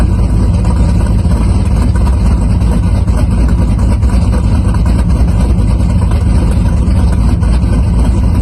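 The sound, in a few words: supercharged 426 stroker engine with aggressive FRP cam idling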